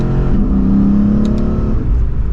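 A Lexus RC F's naturally aspirated engine revs steadily with a low, throaty drone that holds for a couple of seconds, then eases off, loud and close.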